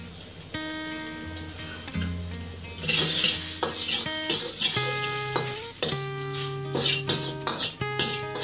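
Garlic stir-fried in a pan for kueh teow, with a spatula clattering and scraping against the metal while oil sizzles underneath. A loud rhythm of repeated utensil knocks runs throughout, and music plays in the background.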